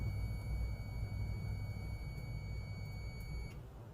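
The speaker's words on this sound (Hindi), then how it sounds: "मल्टीमीटर से बीप का आवाज़" A multimeter in continuity mode sounds a steady high-pitched beep while its probes touch the terminals of an IGBT, the tone holding for about three and a half seconds and then cutting off over a low background hum.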